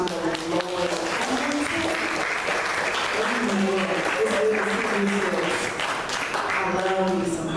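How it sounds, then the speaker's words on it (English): An audience at a church service claps steadily and loudly throughout, a continuous wash of hands with a voice speaking over it. "Can you all clap it up for my friend"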